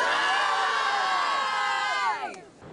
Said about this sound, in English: picked out and shouted out the one word that comes to mind